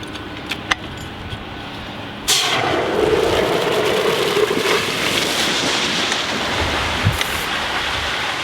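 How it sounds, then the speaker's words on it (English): Water supply opened at a fire hydrant during fireground hose operations, with a steady loud rushing flow that starts abruptly and then holds continuous, following a few faint clinks beforehand. "the firefighter at the hydrant can go ahead and turn that water supply on"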